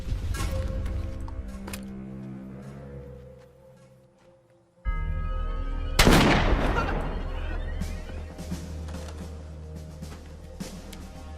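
Covering gunfire in an action film: a sharp, loud burst of shots and crashing impacts erupts after a brief quiet, ringing out over a low musical score.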